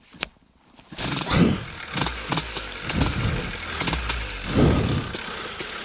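A light aircraft's propeller engine cranks briefly, catches on the first try and settles into a loud, throbbing idle with rhythmic pulses, heard up close with wind noise and no talking.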